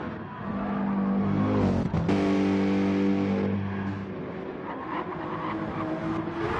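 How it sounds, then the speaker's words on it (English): GTE race cars, Porsche and Mercedes among them, thunder past close and loud with layered engine drones and rising revs, a brief dip near two seconds, then steady running engine roar fading slightly toward the end. "I love the sound of these cars. The Mercedes especially just sounds brilliant."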